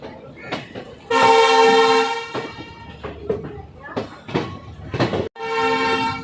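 The Tirupati–Bilaspur Express horn blasts loudly twice at Visakhapatnam, a long blare then a shorter one near the end, over rumbling rail noise with voices talking in between.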